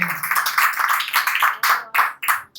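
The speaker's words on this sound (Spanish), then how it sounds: "Denle un aplauso al Señor." A church congregation claps in a quick, uneven burst of close handclaps that thins toward the end into a few separate claps.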